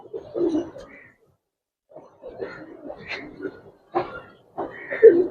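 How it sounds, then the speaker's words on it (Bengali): Giribaz pigeons of an old breed in a loft in Old Dhaka cooing in short, throaty bursts separated by brief silences, close by and moderately loud. "ন্যাচারাল নরমাল কবুতর, এই যেগুলো পুরোনো জাতের কবুতর বলতে পারেন"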